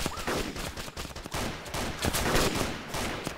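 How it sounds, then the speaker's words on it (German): Rapid bursts of gunfire in the video game DayZ Origins (ArmA 2 mod) crackle at moderate distance, overlapping shots in quick volleys with a few sharper single cracks. "da drüben Schüsse"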